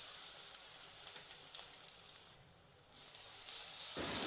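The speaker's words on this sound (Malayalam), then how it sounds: "ഇനി ഇതിലേക്ക് ഇഞ്ചി വെളുത്തുള്ളി അരച്ചത് ചേർത്ത് കൊടുക്കാം. അതും ഇതുപോലെ നല്ലോണം വറുത്തെടുക്കുകയാണ് വേണ്ടത്." Ginger garlic paste frying in oil for a mixed vegetable pickle, a soft, steady sizzle with faint bubbling, fairly quiet and close with no talking.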